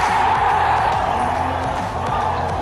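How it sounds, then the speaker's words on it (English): A crowd roars continuously and loudly at a rugby league match, with broad dense cheering and a commentator talking over it. "The crowd goes wild."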